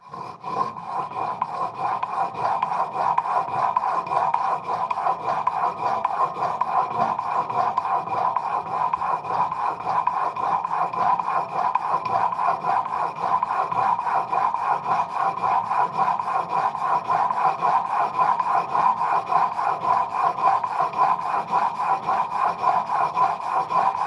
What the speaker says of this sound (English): This is more swipes on the stone than I'd be willing to do by hand, just dragging it.